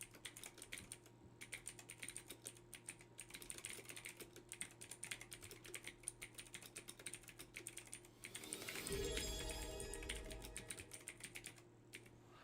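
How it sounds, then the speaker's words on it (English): Keys clatter in quick, uneven bursts of typing on a computer keyboard, close and fairly quiet, with a low steady hum beneath and a brief louder rustle or clunk near the end. "I guess I'm typing any quotes out that I want."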